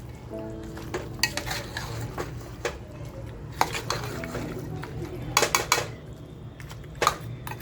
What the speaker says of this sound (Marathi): आता आपल्याला ही डाळसुद्धा या मटणाबरोबर अशी छान फ्राय करून घ्यायची